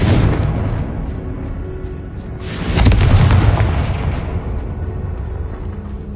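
A Confringo spell blasts in the Hogwarts Legacy video game, a heavy booming explosion midway with a long rumbling decay over continuous low game ambience.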